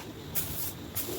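Can of PB Blaster penetrating oil sprayed onto a small block Chevy 350 engine cylinder, two short, close, loud hissing bursts in quick succession.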